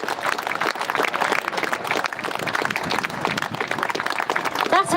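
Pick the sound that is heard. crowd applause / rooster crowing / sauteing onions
crowd applause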